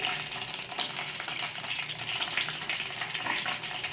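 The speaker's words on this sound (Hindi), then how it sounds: "इस तरह से हमारी दूसरी फिश के पीसेस भी फ्राई हो रहे हैं।" Fish pieces seasoned with Shan masala fry in hot oil, a continuous, close crackling sizzle with a bright hiss that swells and eases slightly throughout, no voices present.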